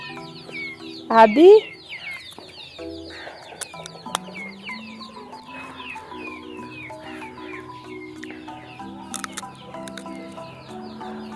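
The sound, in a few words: chickens clucking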